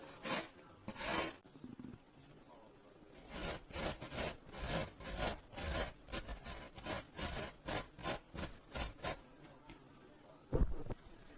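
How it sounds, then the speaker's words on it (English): A carrot is shredded on a hand grater, giving a run of rhythmic rasping strokes, each a short scratchy burst, close and fairly quiet, with pauses between groups. "I'm just gonna be using a grater to shred the carrot"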